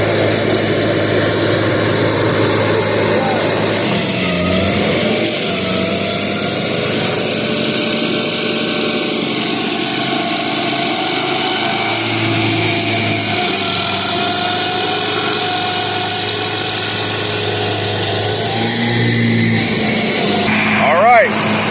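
A Rayco RG 55 stump grinder's engine runs steadily and loudly throughout, a constant droning roar with slight shifts in tone, while someone talks over it.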